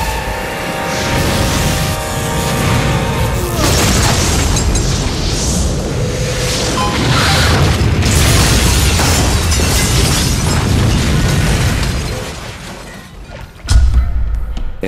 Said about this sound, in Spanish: La escena de la explosión de la camioneta